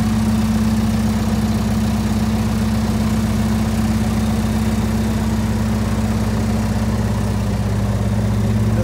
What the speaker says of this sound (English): I have both the machines running.